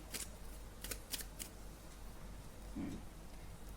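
Tarot cards are drawn and handled close by during a reading, giving a few quick soft flicks and shuffles early on. Quiet room tone follows.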